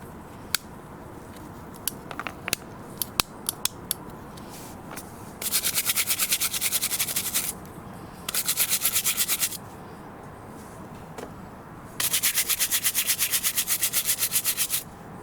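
A corroded, rusty sunroof switch assembly from a Citroen C4 or Peugeot is scrubbed with a brush, giving three bursts of fast, close, raspy rubbing strokes between a few sharp clicks and taps.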